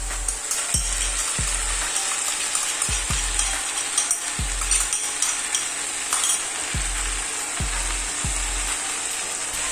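Beef chilli being stirred in a sizzling pan after sauce is poured in, a steady hiss of frying with regular scraping strokes of a spoon roughly every second, close and without talk.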